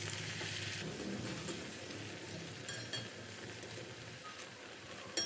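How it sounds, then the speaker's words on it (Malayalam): Uzhunnu vada, Kerala urad dal fritters, frying in hot oil at reduced heat: a steady close sizzle and crackle with a few light clinks of a utensil against the pan. "പിന്നെ ചൂട് കുറച്ച് വെച്ചിട്ടാണ് നമ്മളിത് ഫ്രൈ ചെയ്തെടുക്കുന്നത്. ഇതുപോലെ ഇട്ട് കൊടുക്കണം."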